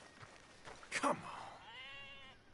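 A sheep in Red Dead Redemption 2 gives a single short, wavering bleat at moderate distance, followed by a thin sustained tone amid quiet game ambience.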